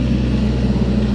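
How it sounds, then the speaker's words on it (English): A tractor engine runs nearby in a garden, a steady, loud, low mechanical drone with a throbbing hum and no break. "Sorry about the tractor noise."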